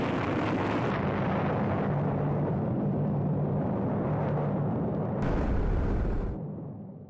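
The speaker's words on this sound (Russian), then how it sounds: "Взрыв!" Atomic bomb test footage carries a sustained, roaring explosion blast, loud and broadband for several seconds, swelling again near the end before fading out.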